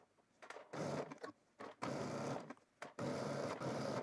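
A sewing machine stitches a 5/8 inch seam on a sweatshirt, running in several close, loud bursts with brief pauses between them.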